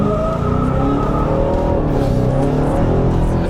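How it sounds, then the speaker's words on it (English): Supercharged Hemi in a 2020 Dodge Charger Hellcat Widebody accelerating hard on an empty road with tires spinning, a loud continuous roar with squealing rubber and rising engine tones throughout. "And I spun my tires in first and second."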